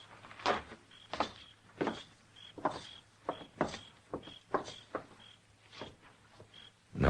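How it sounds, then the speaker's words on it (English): Series of door-like knocks and clunks in a 1955 radio drama, sharp repeated bangs at uneven intervals over a steady low hum, with a faint high tone recurring between them. "we'll walk right in the front door"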